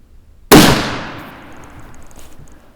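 A CVA Accura MR-X .50 caliber muzzleloader fires one loud, close shot whose sharp crack is followed by a long, fading rumble across an open range.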